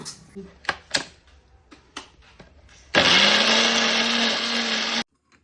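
A few handling clicks and taps come first, then a kitchen mixer grinder grinding biryani masala for Thalappakatti-style biryani roars loudly and steadily for two seconds before stopping abruptly.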